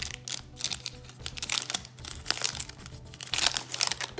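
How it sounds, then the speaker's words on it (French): Pokémon trading card booster pack foil being torn and unwrapped, a close, continuous run of crinkling and crackling plastic with sharp tearing bursts throughout. "Pourquoi je galère à déballer ce boosters?"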